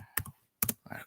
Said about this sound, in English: I like typing in the chat.